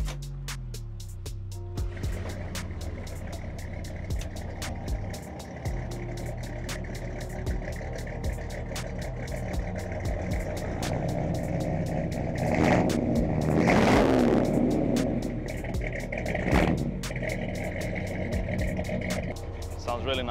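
A 1964 Ford F100 long-bed truck with straight-pipe exhaust idles steadily up close, a loud continuous rumble that swells briefly in a couple of revs midway before settling back to idle.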